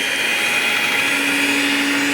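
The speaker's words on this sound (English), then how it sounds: "I'm gonna hand mix a little bit and I will use the mixer" An electric mixer working keto-friendly bread dough, a steady loud whining motor drone with a constant high hum that holds even throughout, close by and alone with no talking.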